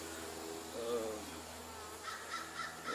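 Honey bees at a Langstroth beehive give a faint, continuous buzzing hum, with brief higher-pitched whines from bees flying close by.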